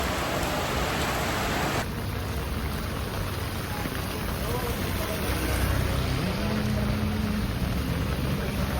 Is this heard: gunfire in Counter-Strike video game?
no